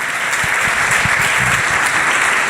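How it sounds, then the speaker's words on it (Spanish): A church congregation claps in a dense, steady burst of applause, loud and close throughout with a faint voice beneath. "Dale un fuerte aplauso al Señor en esta tarde."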